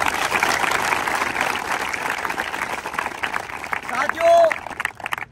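An audience claps steadily at an outdoor crab-eating event, a dense patter of many hands that carries on with a murmur of voices underneath and fades near the end.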